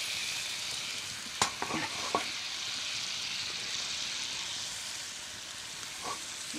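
Salmon steaks sizzle steadily in a frying pan at a rustic log cabin deer hunting camp, a continuous close hiss with a few sharp clinks and scrapes of utensils against the pan.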